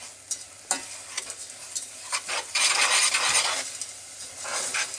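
Honey and sugar heated together in a pan for caramel, with a utensil stirring and scraping at irregular intervals over a steady soft sizzle that swells louder midway. No one speaks.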